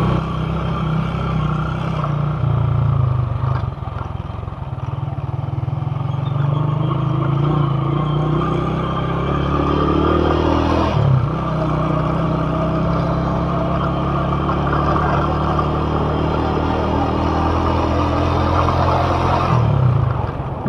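A motorcycle rides along unpaved dirt streets with its engine droning steadily nearby, the tone shifting slightly with throttle changes and a couple of brief surges, and no talking over it.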